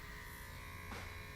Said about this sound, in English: beard trimmer.